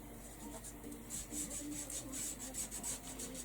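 A finger rubs a substance around the outside of a hand tool in a workshop, a soft, close, steady rasping rub with rhythmic strokes that grow slightly louder toward the end, no talking.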